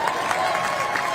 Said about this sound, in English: Yeah, you better clap for that one.